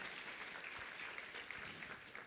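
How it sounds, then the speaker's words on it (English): A church audience claps hands in a continuous, faint patter of applause during Tim Storey's sermon, with no voices over it. "Somebody clap your hands like that's a good possibility"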